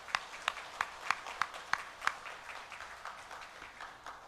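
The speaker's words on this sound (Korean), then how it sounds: "우리 성가대 박수 한번 쳐주세요" A church congregation at a Sunday service applauds the choir. A run of sharp, evenly spaced claps near the start gives way to softer, scattered clapping, with no talk over it.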